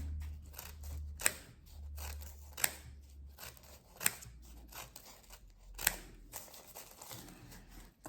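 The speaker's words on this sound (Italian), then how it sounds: "Ci sono anche delle forbici che sono già con delle zigrature" Zigzag-edged scissors snip through pastry dough for a Sardinian sweet, a series of sharp, close clicks and cuts spaced about a second apart over a quiet low hum.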